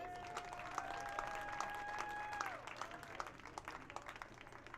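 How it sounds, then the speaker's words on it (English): A crowd applauds a graduating high school baseball player being honored at a game, with faint, scattered clapping at a distance and a sustained tone running under it for the first half before fading. "please give a round of applause"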